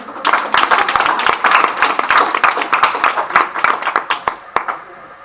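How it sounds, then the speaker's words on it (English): A classroom group gives a round of applause after a micro-teaching science experiment, a steady burst of many hands clapping for about five seconds that thins out toward the end. "Let's give her a round of applause."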